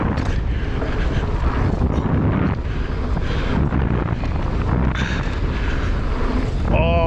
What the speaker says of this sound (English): Whoa, it is quite windy.